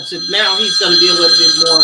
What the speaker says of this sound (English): I'm sorry, that's my alarm